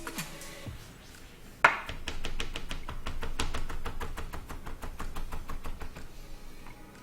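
Garlic being chopped with a knife on a cutting board in a home kitchen, a steady run of sharp, evenly spaced chops that starts after a louder opening knock and carries on at close range.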